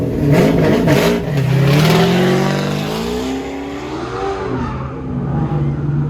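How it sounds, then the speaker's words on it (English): A race car in the SC class, a 308, runs a course at the Goodguys West Coast AutoCross Shootout. Its loud engine revs and shifts up and down, with pitch sweeps as it accelerates and brakes, close by and with no talk over it. "Scott Frazier, the fastest car of the entire weekend, 2-0 with the 308."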